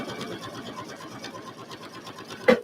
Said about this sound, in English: here I go stitching down the new line